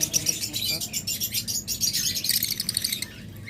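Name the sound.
pet birds chirping, lovebirds or cockatiels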